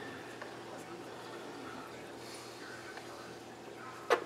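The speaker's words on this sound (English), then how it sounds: "See, the water's boiling." A pot of water boils on a home kitchen stove before rice goes in, giving a faint, steady bubbling hiss throughout, with a brief sharp clink near the end.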